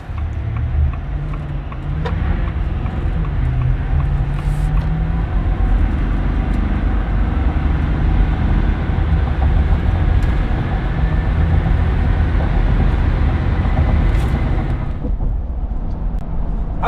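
A 2024 Ford F350 HO Power Stroke diesel pickup accelerates hard toward 60 mph, a loud steady low engine roar heard from inside the cab that eases off near the end.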